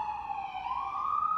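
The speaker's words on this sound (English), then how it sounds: "I'll wait for the ambulance." Ambulance siren sounding steadily during a board meeting, a sustained wailing tone that slowly dips and then rises again, loud and continuous with no talk over it.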